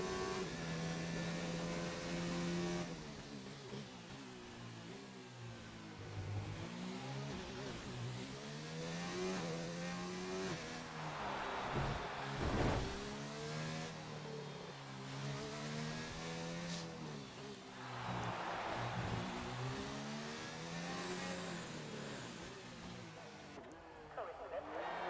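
A racing car's engine on a hot lap at Monaco in a PC racing game, revving up and down through gear changes in repeated rising sweeps, heard under continuous commentary.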